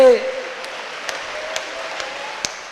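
A church congregation at a prayer service claps together, a broad wash of many hands with a steady, even beat. A voice is heard briefly at the start.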